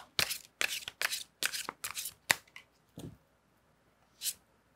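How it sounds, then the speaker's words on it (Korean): Tarot advice cards are shuffled by hand, a close run of about seven crisp riffling bursts in quick rhythm, then a few softer card slides and a final flick. "마지막으로 여러분을 위한 조언 카드를 좀 뽑아드리도록 할게요"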